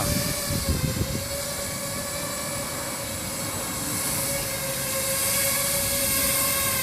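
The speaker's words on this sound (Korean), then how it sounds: "자, 여기는 비행기들을 날리고." Radio-controlled model turbine jet airplanes fly at an outdoor flying field, a steady high-pitched turbine whine that holds and swells slightly, with a brief rumble near the start and no talk.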